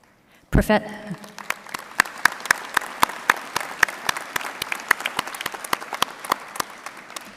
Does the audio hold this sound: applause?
yes